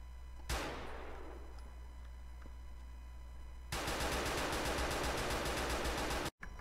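Automatic gunfire in a GTA IV firefight with an AK47: a single sharp shot followed by a decaying tail, then a loud sustained stream of rapid machine-gun fire that cuts off abruptly near the end.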